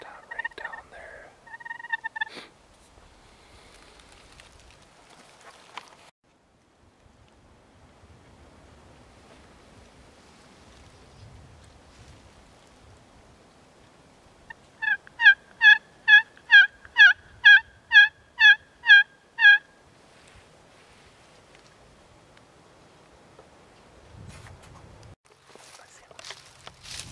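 Wild turkeys, four hens and a tom, gobble in a Wisconsin spring setting: a brief call at the start, then a clear series of about nine rapid gobbles at moderate distance, with faint rustling and footsteps between.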